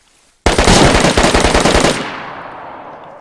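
Sustained burst of automatic gunfire in the multiplayer survival game DayZ, loud and close with rapid rhythmic shots for about a second and a half, then a fading echoing tail.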